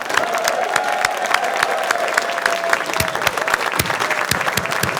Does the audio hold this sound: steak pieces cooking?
no